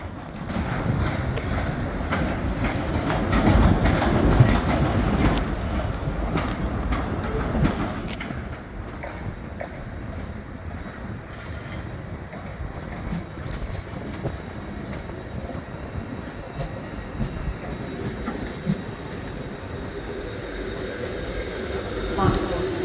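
Train passing through Edinburgh Waverley station, a steady rolling rumble of wheels with faint clanks and squeals, loudest early on and then settling into a continuous lower drone, with people talking amid the busy station bustle.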